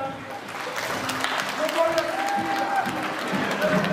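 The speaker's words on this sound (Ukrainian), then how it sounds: "Дайте оплески, безподобна жінка." Wedding guests applaud at a Ukrainian wedding reception, a moderate, continuous patter of clapping mixed with crowd murmur and some voices over it.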